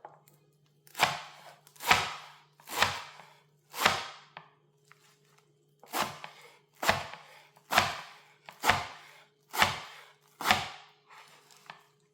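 A knife chops fresh coriander on a board in about ten crisp, close strikes, each a sharp thud, spaced roughly a second apart with a short pause partway through and a steady faint hum underneath.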